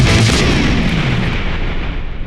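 A Christmas cracker is pulled apart with a loud bang, followed by a broad, sustained crackling roar that fills the whole clip and slowly fades.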